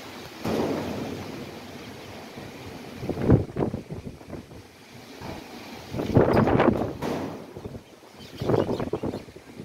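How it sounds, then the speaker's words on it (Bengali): Strong storm wind gusts buffet the microphone in loud, uneven bursts separated by quieter lulls, roaring close and rough with no voices. "প্রচুর বাতাস আসছে"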